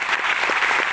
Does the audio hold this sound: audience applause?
yes